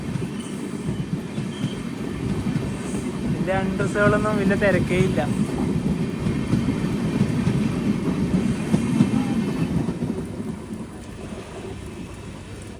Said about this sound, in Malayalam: ട്രെയിൻ ഇപ്പോൾ ആരവല്ലി റോഡ് എന്ന സ്റ്റേഷനിലെത്തിയേ.